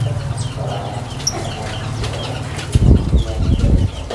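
Caged birds flutter at a bird seller's stall, with bursts of wing flapping and scattered chirps near at hand and a louder flurry toward the end.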